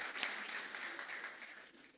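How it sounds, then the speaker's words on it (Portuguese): Faint, distant applause from a congregation at a Mother's Day church service, a soft even patter of clapping fading slightly over two seconds. "Dê uma salva de palmas para essa mídia aí."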